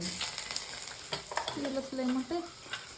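Pungalya snacks frying in hot oil in a home kitchen, a soft, steady sizzle broken by light clinks and scrapes of stirring.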